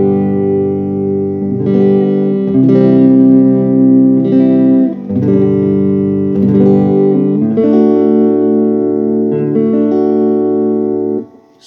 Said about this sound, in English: reverb, I'm just going to add up to say 5, and this is the sound.